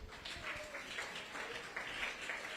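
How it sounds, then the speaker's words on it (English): Audience at a children's literature and cultural festival applauding, a continuous wash of clapping that holds at moderate level throughout. "Big round of applause."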